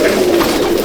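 Domestic pigeons cooing inside a loft of silver pigeons in Akra, Kolkata, a steady low murmuring coo held close and continuous for under a second, with no talk.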